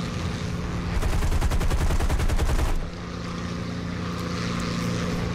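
Rapid aircraft machine gun bursts in the War Thunder combat game, a loud rattling string of shots lasting about two seconds over a steady propeller engine drone that continues alone afterward.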